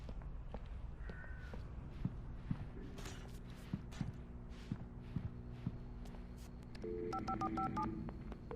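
Phone dialing tones in the video game Alan Wake Remastered, with a burst of short beeps in a gas station, preceded by faint footsteps and distant crow caws over a low ambient hum.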